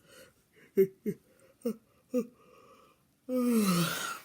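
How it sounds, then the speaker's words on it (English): A big yawn from a man at his desk: a few short breathy vocal bursts early on, then a long, loud, drawn-out moaning exhale that slides downward in pitch and fills the last second alone. "Sorry, I got a big yawn right now."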